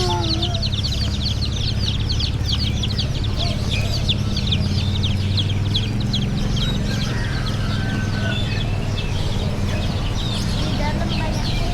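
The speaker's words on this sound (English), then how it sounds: "Chicken." Chickens cluck and squawk among many birds at a crowded bird market in Denpasar, Bali, a busy layer of chirps and calls over a steady low rumble of people talking nearby.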